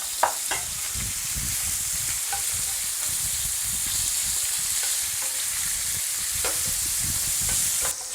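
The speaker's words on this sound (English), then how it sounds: "lardons in, get those nice and crispy, release a bit of that bacon fat" Bacon lardons and onions frying in a pan give a steady, close hiss of sizzling fat, broken by a few soft scrapes and stirring clicks, with no one talking.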